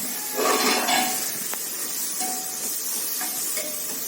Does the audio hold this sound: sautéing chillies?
yes